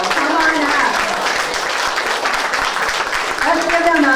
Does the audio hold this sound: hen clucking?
no